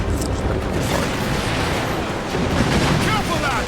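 Ship mortar fire in the pirate naval game Assassin's Creed Black Flag, a dense rumbling wash of booms and blasts running throughout, with a voice talking over the battle.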